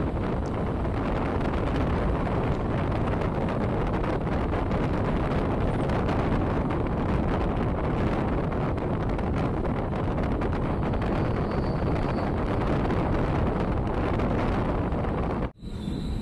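Cool wind blows hard against the microphone beside a moving train at sunset, a dense, steady roar that stays constant throughout, with a brief dip near the end.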